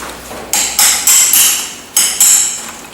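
A small chisel is struck with a hammer to bend metal tabs during a Ferguson TEA20 tractor overhaul: six loud, close metallic strikes fall in two quick groups, each ringing briefly before fading.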